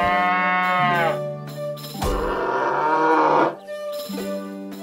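In South Park: The Stick of Truth, a cow lets out a series of loud, close moos: a long bellow, a harsher rougher call, then a shorter low one, with no talking.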